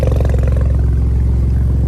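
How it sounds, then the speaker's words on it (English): BMW 335i engine idling as it warms up, fitted with a cheap aftermarket intercooler, a loud, steady, low rumbling drone close by with no pauses. "right now I'm just letting my car warm up for a second so it can move it."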